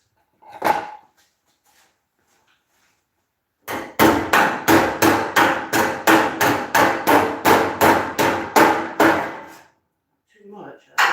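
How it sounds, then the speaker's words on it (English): A hammer strikes a metal body panel on a race car in a workshop, about fourteen sharp, evenly spaced blows in a quick burst, with a lone hit before and a brief sound after. "Maybe a little bit of hammer work wouldn't hurt anything right here."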